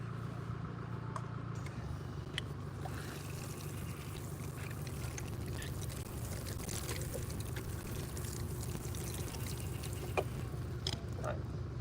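Water pours steadily onto a newly repaired garden lawn, a constant close hissing splash lasting several seconds with no talking.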